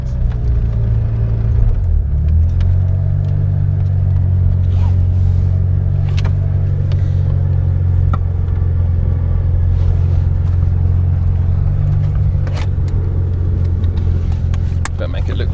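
A Mazda FC RX7 converted to turbo drives along with its engine running as a loud, steady low rumble throughout, shifting pitch once early on, while people talk over it.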